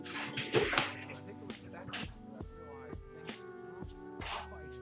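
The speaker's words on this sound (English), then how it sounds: "This is my dog." A nervous dog whimpering and whining for attention indoors, a string of close, high-pitched cries and yips that rise and fall over several seconds, with a person's voice faintly underneath.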